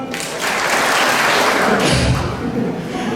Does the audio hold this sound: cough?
no